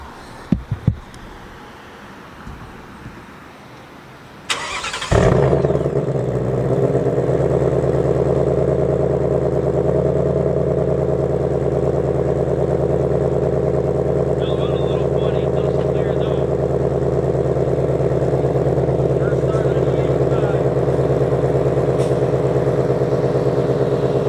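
A 2023 Ford Mustang running E85 fuel cranks over and fires up after some brief clicks and handling noise, then settles into a loud, steady idle heard up close.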